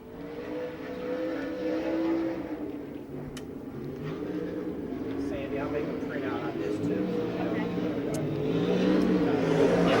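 J.J. Yeley's number 76 USAC National Sprint Car roars around the dirt oval at Rossburg, Ohio, on a qualifying lap, a loud continuous engine drone rising toward the end while an announcer talks over it.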